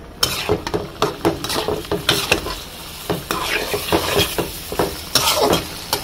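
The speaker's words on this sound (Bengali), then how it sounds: "এখন চামড়াগুলো দিয়ে দিব। ভালোভাবে নাড়বো।" Chicken skin frying in spiced oil in a pan, stirred with a utensil that scrapes and clinks against the metal in quick irregular strokes over a steady close sizzle.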